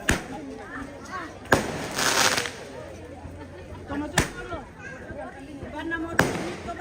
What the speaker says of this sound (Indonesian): Bahaya petasan.